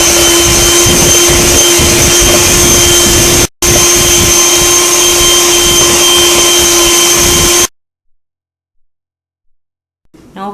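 An electric mixer whirs loudly and steadily as it beats an egg into yellow cake batter, with a brief cut partway through before the motor stops abruptly, leaving near silence.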